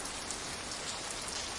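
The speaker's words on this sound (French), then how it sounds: "Un peu de pluie." Steady rain patters densely on a surface, a continuous even hiss of many drops, moderately close with no voices.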